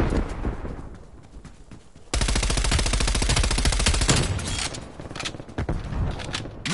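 Sentry turret in a PS4 shooter opening up with dense rapid automatic fire, loud and continuous for a couple of seconds after a quieter lead-in, then tapering into scattered shots and rattles.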